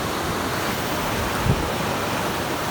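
A large waterfall sends a big rush of cold water down, heard as a loud, unbroken broadband roar close by, with a soft thump midway.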